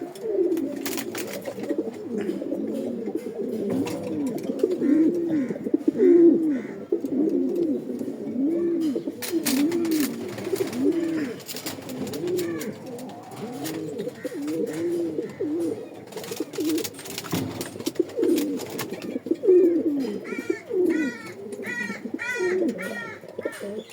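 Racing pigeons in a loft keep up continuous, overlapping throaty coos, loud and close, with a few sharper calls and wing flutters breaking through now and then.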